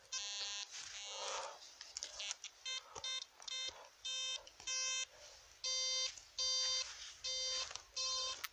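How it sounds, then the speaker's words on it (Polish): A metal detector set to deep mode gives a series of loud electronic tones while searching a patch of buried rubbish and debris. After a longer opening tone, about eight steady, evenly spaced beeps follow, close and clear. "Odpaliłem wykrywkę. Włączyłem tryb głęboki. No i są sygnały."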